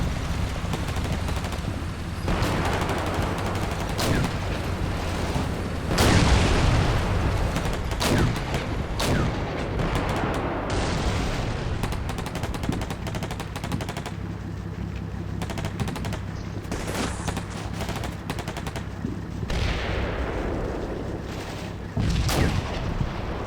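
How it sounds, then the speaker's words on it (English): Heavy gunfire and artillery from the war game Combat Mission Black Sea, with repeated loud booms and bursts of rifle and machine-gun fire coming in irregular clusters over a constant rumbling battle bed. "We're taking fire over here in the center."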